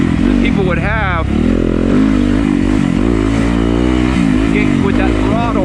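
A Yamaha YZ250FX dirt bike engine roars loudly and continuously, rising and falling in pitch as the throttle is worked, up close and dominating throughout.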